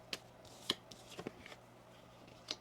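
Tarot cards shuffled by hand, a handful of soft scattered flicks and taps of card against card, close but quiet in a still room.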